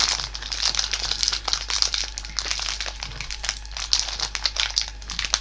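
A little plastic bag crumpled close to the microphone during a tabletop role-playing session, with continuous crisp crinkling and rustling throughout.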